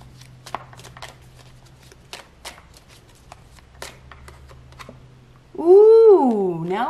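Tarot cards being shuffled, a run of quick papery riffles and flicks in an uneven rhythm over a faint low hum, ending with a loud cat meow that rises and falls.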